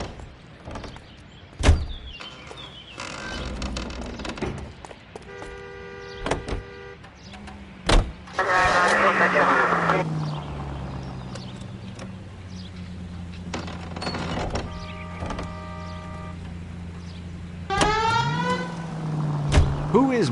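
A vehicle drives in a video game, its low engine drone rising and holding steady over the second half, with mechanical clunks, door-like thuds and bursts of game dialogue and voices layered on top.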